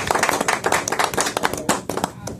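Audience clapping at a celebratory anniversary event, a dense burst of many hands applauding together at close range with no talk over it.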